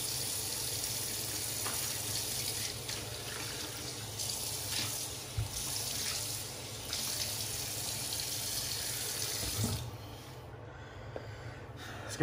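Water runs steadily from a bathroom tap while a face is wetted before shaving. The close, continuous splashing comes with a few louder splashes and a sniff, then cuts off near the end.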